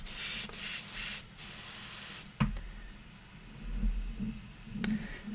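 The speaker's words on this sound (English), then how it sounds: "I'm just going to spray it down to see what happens." Several long bursts of hissing spray paint from a can onto a model, steady and close, separated by brief pauses, followed by quieter handling noises.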